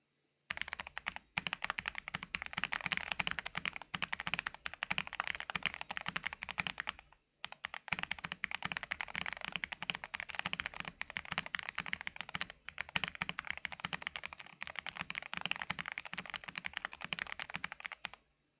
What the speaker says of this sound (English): here's the typing test of the Tiger 80 Lite with Gateron X switches, PBT fans, PC plate, all foams